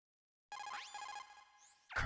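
A phone call rings in the Metal Gear Solid remake on GameCube, an electronic ringing tone with rising sweeps that runs steadily for over a second and ends in a louder burst of game sound.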